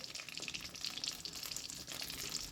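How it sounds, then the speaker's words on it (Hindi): Pakoras drop into preheated oil for Punjabi kadhi pakora, bubbling and crackling in a soft, continuous frying sizzle with small bursts of popping throughout, no voices present. "ऑयल हमारा प्री हीट हो चुका है तो अब पकोड़े जो हैं हम डालते जाएंगे एक एक करके"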